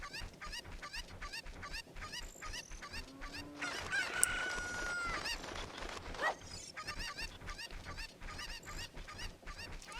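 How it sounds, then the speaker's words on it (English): A chicken in the video game Zelda 64 clucks and squawks in repeated bursts over a rhythmic game background, with one louder cry near the middle, fairly close and without talk. "I needed another chicken to get back there."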